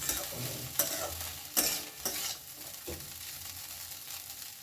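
Poha being stirred in a pan, a few distinct spoon scrapes and knocks over a quiet, steady sizzle, close and fairly faint.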